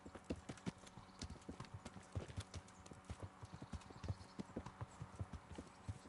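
Horse hooves clip-clop in the video game Kingdom Come: Deliverance, a quick, steady run of close hoofbeats on firm ground that continues throughout, faint overall and with no talking.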